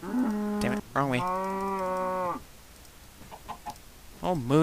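A cow moos in the Minecraft video game: two long, loud, drawn-out calls in quick succession, then a short rising moo near the end, with faint game noise between.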